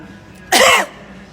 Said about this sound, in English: I think I'll get real close to you and cough on you then.